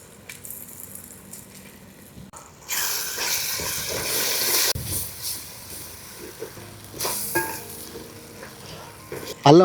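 Ground ginger paste sizzling and being stirred in a pan while cooking goat testicle curry, a loud burst of frying and scraping that settles into a steady sizzle, with occasional utensil clinks.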